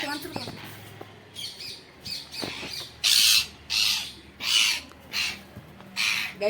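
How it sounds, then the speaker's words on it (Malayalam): A parrot gives a series of loud, harsh squawks, about five in a row spaced roughly half a second apart, close by, after some quieter talk and rustling. "വേറെ തത്തമ്മ വന്നിട്ട് ഇതിന്റെ സൗണ്ട് കേട്ടിട്ട് കാണിച്ചു."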